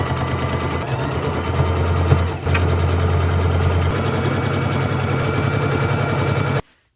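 A sewing machine runs a straight stitch with the tension turned up and stitch length set between 2 and 3, a steady loud mechanical chatter that continues for about six and a half seconds before stopping abruptly.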